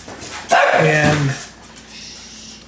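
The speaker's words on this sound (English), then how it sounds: "pardon my dog's there" A pet dog barks a couple of times close by indoors, loud and sharp, followed by a softer trailing whine, as someone briefly speaks.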